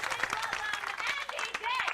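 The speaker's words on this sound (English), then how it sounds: "Why are you cheering?" A comedy club audience at a stand-up show claps and cheers in a dense, continuous burst, with a voice speaking over the applause.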